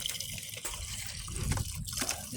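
Water pours and gushes into a toilet bowl to flush it during an ice storm water shutoff, a steady close splashing trickle with no voices.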